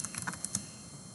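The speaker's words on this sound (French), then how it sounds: "nous pouvons aussi taper la commande sudo" Keystrokes on a computer keyboard as a sudo command is typed, a quick uneven run of close, light clicks with no talking.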